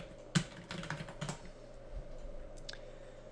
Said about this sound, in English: So let's type in our keyword.